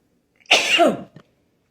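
A single sharp sneeze close by, a brief burst followed by a short trailing breath, in otherwise quiet surroundings.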